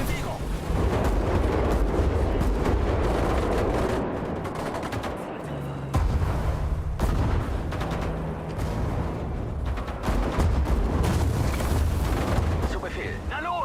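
Repeated artillery and gunfire blasts from the World War II strategy game Sudden Strike 5, loud and dense with overlapping booms and crackling shots throughout, with brief in-game voice commands mixed in.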